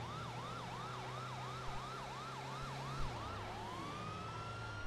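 Police car siren in the video game GTA V, wailing in a rapid repeating up-down cycle for about three seconds, then shifting to a steady rising tone, loud and close over low engine rumble.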